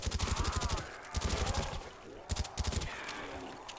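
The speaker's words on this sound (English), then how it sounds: "I'm sorry I keep talking about the suppressor, but this sound is so clean." Rapid suppressed gunfire from a Black Ops custom zombies game, several quick automatic bursts of muffled shots with short pauses in between, close and fairly loud.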